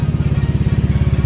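A Honda Click V2 scooter fitted with a TRC aftermarket exhaust pipe idles up close, giving a loud, deep, full-bodied burble with a steady, rapid pulsing rhythm and no voices over it.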